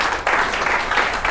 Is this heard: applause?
yes